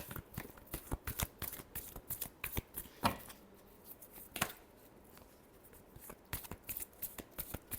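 Tarot cards shuffled close by, with quick bursts of riffling flicks and taps separated by short pauses, quiet and unaccompanied by talk.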